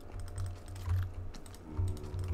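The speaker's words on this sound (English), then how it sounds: "And I know you can hear me ferociously clicking" Rapid, ferocious clicking and tapping on a keyboard and mouse, close up, in uneven bursts with thumps underneath.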